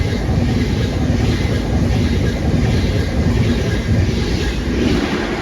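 A train passes on the West Coast Main Line in North Staffordshire, a loud, steady rumble with rolling wheel noise that holds throughout, close by and without talk.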